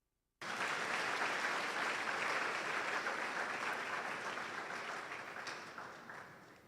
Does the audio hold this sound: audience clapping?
yes